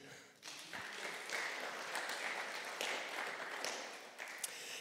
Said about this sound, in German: Einen Applaus für dich.